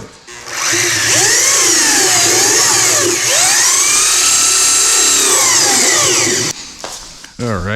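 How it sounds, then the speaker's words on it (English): Rotary polisher spinning up to clean polishing pads, a loud high whirring motor whose pitch swoops up and down as it loads and frees, running steadily for several seconds before cutting off into handling noises. "I'm going to clean out all my pads on the rotary."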